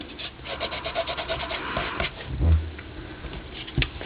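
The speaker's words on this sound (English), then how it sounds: "I just have the littlest amount on my finger, and you just kind of rub it over the top." A fingertip rubs a little paint over mixed media paper in a dry-brushing motion, giving a soft, close, scratchy rubbing with small irregular bumps.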